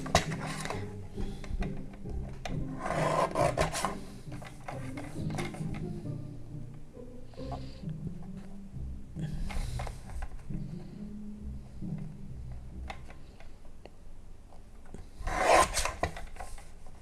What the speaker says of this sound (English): so let me trim it a little bit more